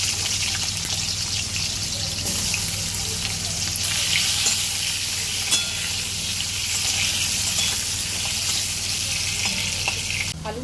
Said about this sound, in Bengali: আলুটা লাল করে ভেজে নিয়েছি, এবার আমি আলুটাও তুলে নেব।